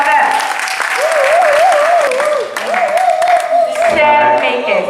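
Loud, steady applause and clapping from a summer camp crowd for the winning team, with a voice calling out or singing over the clapping.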